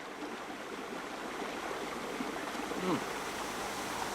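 Fresh water cascading near a boat by the Berkeley River mouth on a rugged coast, a steady broadband rush of flowing water running throughout at moderate level, with a faint voice briefly audible.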